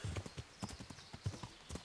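Quick, evenly spaced hoofbeats from a trotting horse in Kingdom Come: Deliverance, close and fairly quiet, with a regular two-beat rhythm and no voices.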